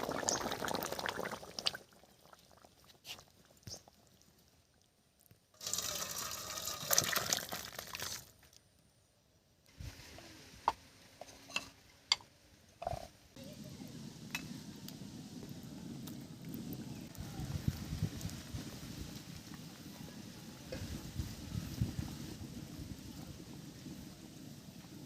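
A pot of fish curry bubbling and simmering, with uneven bursts of boiling and faint clatters early on, then a steady low burbling in the second half, heard close and fairly quiet.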